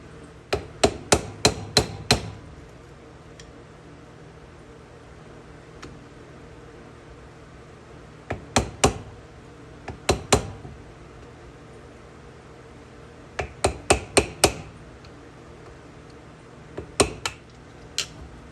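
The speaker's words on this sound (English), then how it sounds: "Best way to probably get at these U-joints is a screwdriver. We're going to try first to get those clips off." Screwdriver hammered against U-joint clips on an 1988 Ford Bronco II, sharp metallic strikes in quick bursts of four to six blows, separated by pauses, loud and close.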